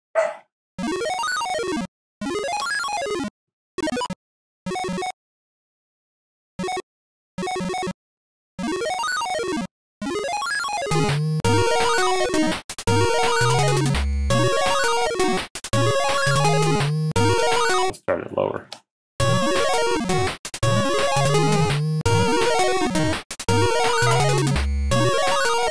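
Bright square-wave chiptune lines on a pulse channel, with sparse staccato notes at first, then dense fast runs climbing and falling across several octaves over a steady bass pulse, loud and alone.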